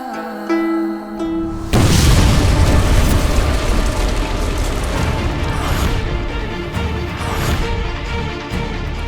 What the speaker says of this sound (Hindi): ये कैसा धमाका था?